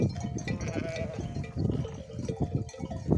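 A flock of sheep and rams out on high summer pasture bleats in overlapping calls, near and fairly loud, with a cowbell-like clank now and then and no speech.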